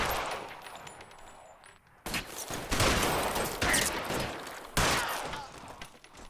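Gunfire rings out in the crime video game L.A. Noire as a dense fusillade of rapid shots in three loud bursts, separated by brief quieter gaps, with no talk.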